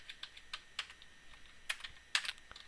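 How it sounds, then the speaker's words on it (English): Computer keyboard keys tapped in a quiet room while configuring network settings, a sparse irregular series of light clicks with a few quick bursts, close and soft, no voices. "we're typing engineering"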